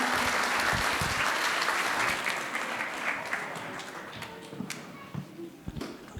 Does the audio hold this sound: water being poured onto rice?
no